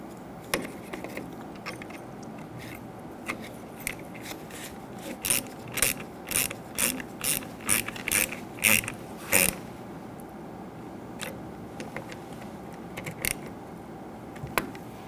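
Ratchet snugging the mounting screws of a parking assist camera on a 2011-2015 Kia Sorento, a burst of quick close clicks in the middle with a few scattered clicks before and after.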